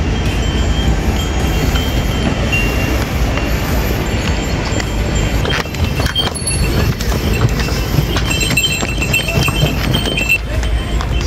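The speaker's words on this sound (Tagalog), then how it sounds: "Yan, donkey going top." Donkey hooves clip-clop up a steep path on Santorini Island, a steady clatter under loud, continuous outdoor noise with people talking.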